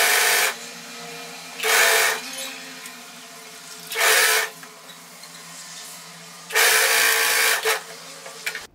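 A sewing machine stitches frills onto a frock in bursts, three or four loud runs of rapid stitching separated by quieter pauses with a steady background hum.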